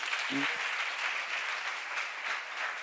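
Applause breaks out from a church seminar audience, a steady wash of clapping that lasts throughout, fairly quiet and a little distant, with a brief voice heard near the start.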